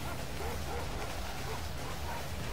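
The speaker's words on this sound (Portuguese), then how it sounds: "Controlar 8 cachorros no gelo." Dogs barking and yipping in the survival video game Cabela's Survival: Shadows of Katmai, a team of sled dogs on ice, repeated short barks over a steady loud game background noise.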